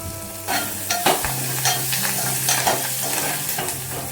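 Onions frying with salt and curry leaves in a pan for a Telugu amaranth-leaf stew, a steady close sizzle broken by repeated scraping stirs of a spoon, with no voices.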